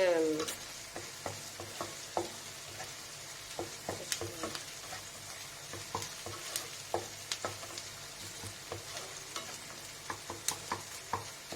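Ginger garlic paste sautéing in a pan for a spicy tomato gravy, with a steady sizzle and frequent scraping stirs of a spoon across the pan, close and clear with no talking.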